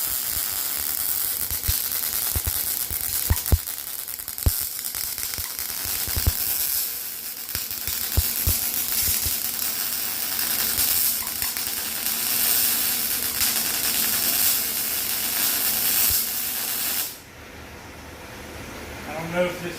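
MIG welder laying a bead on 1/8-inch, 1-inch square steel tubing with .030 wire at 19 volts, a steady close crackle and sizzle with a few louder pops, stopping abruptly near the end.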